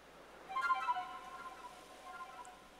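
A soft flute melody in Pokémon Legends: Arceus, a few quick notes played faintly, followed by lingering quieter tones over a low background hiss.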